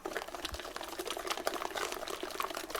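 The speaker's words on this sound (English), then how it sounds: "in goes about 400 ml of full fat cream" Full fat cream pours into a pumpkin pie mixture, a soft close liquid splash and trickle lasting a few seconds.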